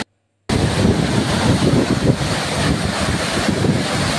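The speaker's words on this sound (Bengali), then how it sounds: "চলে এসেছি ঝর্ণার একদম কাছে, একদম মানে ঝর্ণার বলতে পারি পাদদেশে।" A waterfall at Pasighat heard from right at its base, a loud, dense roar of rushing water with wind buffeting the microphone, steady throughout after a brief silent start.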